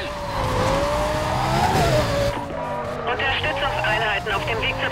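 Tires squeal as a car slides and skids through a turn in the racing game Need for Speed: Carbon, engine roaring loud and close while someone talks over the screeching.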